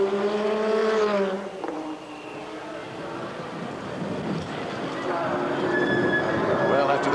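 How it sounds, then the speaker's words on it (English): A Jaguar sports prototype race car's engine drones on track, its revs rising and falling as it passes, with a commentator talking over the engine noise. "The Jaguar of Brundle, Thackwell, and Schlesser sounds healthy again in 3rd place"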